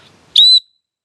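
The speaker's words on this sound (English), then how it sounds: "pretty good whistle. People hear it." A survival-kit whistle gives one short, piercing blast of about a quarter second, loud and close, then cuts to silence.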